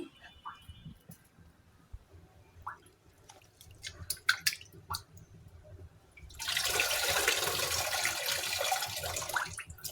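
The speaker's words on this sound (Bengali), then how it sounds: "বিরিয়ানির পানিটা যত সুন্দর করে ধোয়া যায়, অনেক ময়লা থাকে।" Rice for biryani being washed by hand in a pot of water: scattered drips, splashes and clinks at first, then a steady rushing pour of water for the last few seconds; no one talks.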